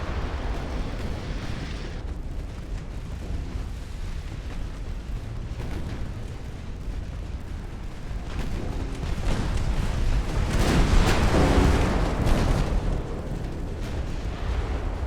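Warship gunfire in the naval combat game Ultimate Admiral: Dreadnoughts, with 1890-era first-generation hulls firing. Rolling low booms and rumbling blasts build into a louder, dense swell of firing near the end, with no talk.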